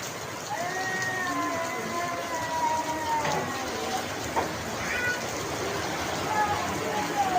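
Steady rain falls over a village, a constant close hiss of drops on surfaces, with faint voices and a few brief animal-like calls heard above it.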